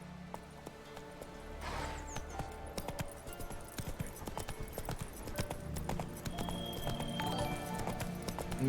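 Galloping horse hooves in a modded next-gen version of The Witcher 3, a rapid rhythmic clip-clop that builds and stays steady at moderate distance, with a brief snort early on.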